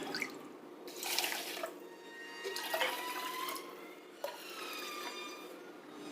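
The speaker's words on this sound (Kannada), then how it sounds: "ಮೂರು ಮೂರುವರೆ ಬೌಲಷ್ಟು ನೀರು ಹಾಕಿ ಬೇಯೋದಕ್ಕೆ ಇಡ್ತೀನಿ" Water splashing and trickling into a pot of rice and moong dal for pongal in several short bursts, with drips and gurgles between pours, close and fairly quiet.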